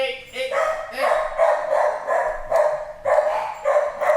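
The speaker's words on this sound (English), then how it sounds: "Dogs are barking and people are cooking" Dogs in a home kitchen bark loudly and close by, about eight sharp barks in quick, uneven bursts with a brief pause midway, and no clear speech in between.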